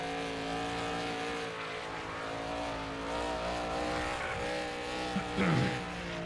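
Race cars on an oval track at Memphis in a sim racing league, their engines droning steadily at a distance, with a brief tire squeal near the end and a commentator talking over it.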